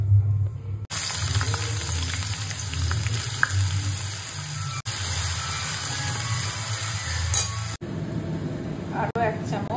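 Onions tossed into hot oil seasoned with dry red chilli, bay leaf and whole garam masala, a continuous close sizzle with occasional clinks of a utensil, and a voice talking over it.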